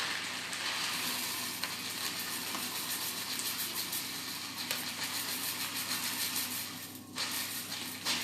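Rice is poured into a hot pot in a cooking robot for a pumpkin and gorgonzola risotto, producing a steady, close sizzling and frying hiss with faint stirring for several seconds and no talking.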